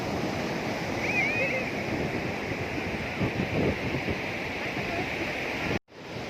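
Surf rolls onto Kamulyan beach in a continuous loud wash of breaking waves, with wind buffeting the microphone, before it cuts off abruptly near the end.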